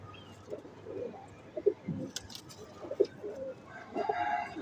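Domestic pigeons kept by a fancier cooing in soft, low, throaty phrases at close range, with a few brief chirps and rustles in between.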